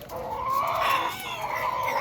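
A rooster at a Fayoumi chicken farm crows once in a drawn-out call, clear and moderately close over a quiet background, with no talking.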